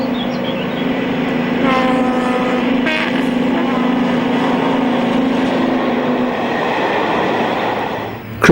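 British Rail Class 55 Deltic Ballymoss hauls the Newcastle to Edinburgh express past Prestonpans in 1980, a loud, sustained diesel roar close by, with a brief tonal whine partway through before the sound fades at the end.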